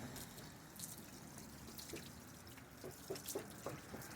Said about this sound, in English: let's see what this does with just a jug of water